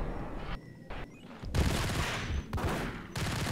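Ingram submachine gun fire in Max Payne comes as several rapid, dense bursts with short gaps between them, loud and close, with no voices.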